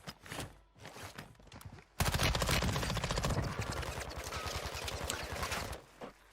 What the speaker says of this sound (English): This guy's still shooting at him